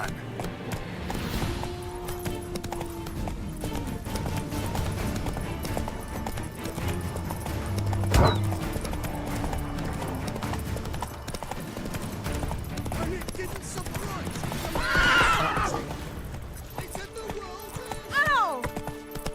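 Roach the horse galloping in a video game, a rapid, continuous clip-clop of hooves with game mechanisms and effects layered in, while a person talks over it throughout.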